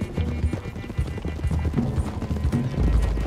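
Horses gallop in Red Dead Redemption 2, hooves clip-clopping in a fast, busy rhythm close by, with a brief whinny amid the steady pounding.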